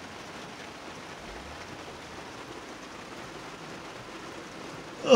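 Steady rain falls outdoors in a parking area before work, a soft even hiss at moderate level throughout with no talking, ending in a brief louder burst.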